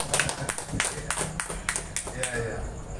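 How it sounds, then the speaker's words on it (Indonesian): Scattered applause from a small audience at a public event, a few hands clapping in an uneven rhythm for several seconds, with a voice talking over it. "Tepuk tangan dulu."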